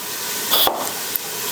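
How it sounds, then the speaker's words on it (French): Onions and garlic sizzle in a pot as they soften, a loud steady close hiss with a brief stir of a utensil partway through, no voices. "Fait que les oignons, l'ail, je laisse ça mijoter pour à peu près 1 minute"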